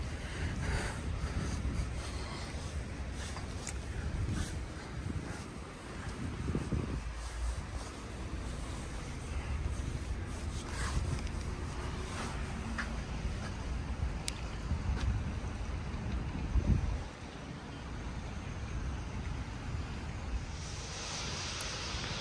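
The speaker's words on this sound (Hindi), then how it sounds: "हवा चल रही है हल्की हल्की सी।" Steady light wind rushing past after snowfall has stopped, a broad low outdoor roar with faint gusts, fairly constant throughout with no voices.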